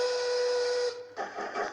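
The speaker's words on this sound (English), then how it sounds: "However, a whistle is heard." A steam train whistle sounds as a long, steady, fairly loud tone, then cuts off and gives way to a rougher, breathier hiss-like burst.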